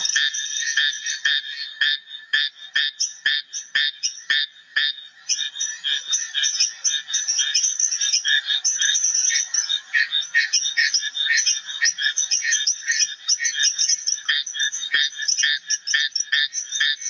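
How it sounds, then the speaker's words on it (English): Stauffer's tree frogs in a Belize pond chorus with rapid, rattling calls, many overlapping voices repeating in quick pulses, steady and fairly close against a quiet night background. "another really cool frog you find with the yellow tree frogs in big ponds are Stauffer's tree frogs"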